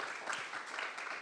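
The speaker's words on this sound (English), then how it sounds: "I'm going to ask everybody to give you a big round of applause for being with us and sharing your thoughts" Audience at a dean's luncheon breaking into a short burst of applause, steady dense clapping from a room full of people, fairly distant and uniform.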